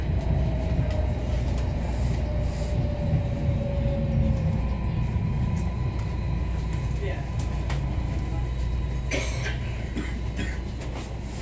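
A MARTA Gold Line subway train bound for Doraville rumbles along the track with a loud, steady low roar, a faint whining tone early on and clicks and clunks later.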